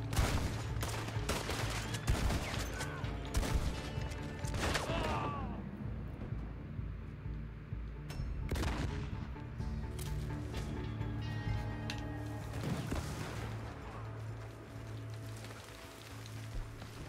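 Gunfire in the online western game Red Dead Online: repeated shots and rapid bursts ring out, some close and some distant, over a steady hiss like rain, with voices talking faintly underneath.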